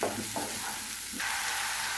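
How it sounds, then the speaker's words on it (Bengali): Onion paste frying in hot oil, a steady close sizzle running throughout, with a brief louder spatter partway through. "পেঁয়াজ বাটাটা আমি একটু ভালোভাবে ভেজে নিচ্ছি।"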